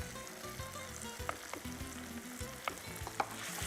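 Tomatoes softened with turmeric and chilli powder sizzle steadily in a pan, with close, irregular scraping and clinking of a spoon stirring through them and no one talking.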